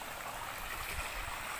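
A forest river stream, flowing after a flood, makes a faint, steady rushing wash of water.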